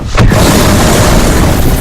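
A loud grenade blast brings a building down in Medal of Honor Warfighter, a video game. A sharp boom is followed by a long, rumbling roar of collapse that fills the clip at close range.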